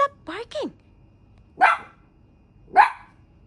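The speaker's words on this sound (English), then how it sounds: "Shh. Stop barking!" A Maltese or Havanese dog barks sharply four times, two quick yips followed by two louder single barks spaced about a second apart, close by.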